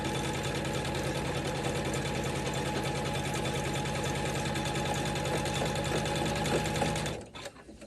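An embroidery machine stitches the lining onto a quilted zipper pouch in the hoop, a fast steady mechanical whirring chatter, close and continuous, stopping abruptly near the end, with no voices.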